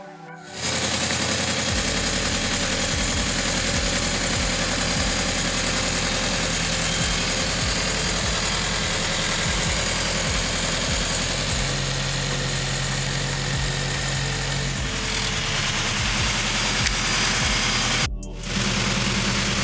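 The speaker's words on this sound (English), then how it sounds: "we're basically just gonna let the car warm up, get up the temperature, make sure there's no leaks" A Toyota GR86 with a freshly installed flex fuel kit idles while warming up: the engine catches at the start, then holds a steady, even drone, dipping only briefly near the end.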